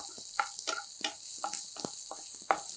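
Chopped onion frying in oil in a pan for cabbage chutney, a steady close sizzle with scattered crackles and stirring clicks, alone without talk.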